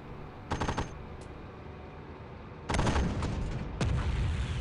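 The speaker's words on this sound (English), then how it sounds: "Okay, now shoot this building." Gunfire in the video game Warfare Reloaded: a short rapid automatic burst, a single shot, then a longer heavy sustained volley with another burst, loud and close over a low ambient rumble, no talk.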